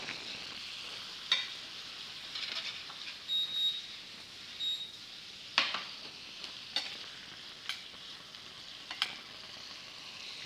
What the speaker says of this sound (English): it's a splash of like white balsamic vinegar to turn that brown butter into like a vinaigrette